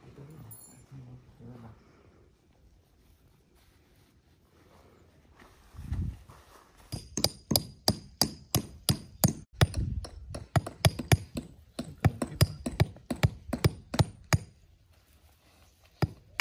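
Hammer nailing down artificial turf along a seam during installation, with a steady run of sharp, loud, close blows at a regular pace after several quiet seconds of faint handling noise.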